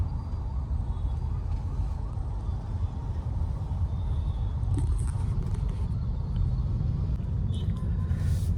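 Heavy city road traffic at 9:30 near Begumpet flyover produces a steady low rumble of engines and passing vehicles, with a few faint higher sounds drifting in.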